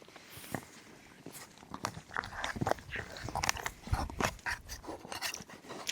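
Chili con carne with beans and peppers being eaten outdoors at a wild camp by Blind Tarn, Coniston, with close crunchy chewing and spoon clinks in an irregular stream, no talk.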